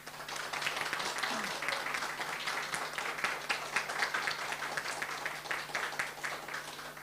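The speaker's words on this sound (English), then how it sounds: "May we greet him with our warmest applause again." An audience at a lecture applauds, a steady wash of many hands clapping that stays fairly even and moderately distant throughout, with faint voices mixed in.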